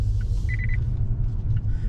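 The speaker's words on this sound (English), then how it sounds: "As you can hear, my little blind spot monitoring going off, even though there was no car next to me." A 2021 Mazda 6's blind spot monitoring alert chimes as a quick run of four short beeps over the steady low road rumble of the moving car, with a couple of fainter single chirps before and after.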